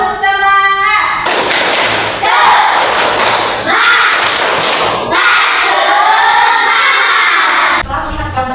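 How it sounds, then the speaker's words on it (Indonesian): A class of Indonesian schoolchildren performs a rhythmic spirit clap, shouting chant-like calls together between bursts of clapping, loud and close in a classroom. "Ya, tepuk semangat."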